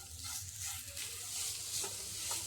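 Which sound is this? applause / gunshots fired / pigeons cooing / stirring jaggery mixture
stirring jaggery mixture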